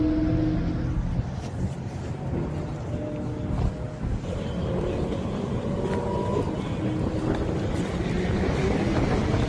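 Ferrari, Lamborghini and other supercars race along a Las Vegas street at night, producing a steady, dense roar of engines and traffic with no single distinct pass-by standing out.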